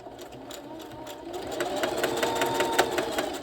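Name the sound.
sewing machine stitching fabric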